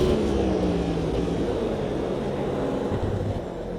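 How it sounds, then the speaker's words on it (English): Airplane taking off off to the left in the racing game Automobilista 2, a steady droning engine rumble blended with race-car noise, fairly loud and continuous before easing slightly at the end. "An airplane taking off to our left."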